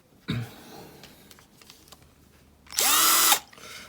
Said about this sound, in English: I've got to drill them out.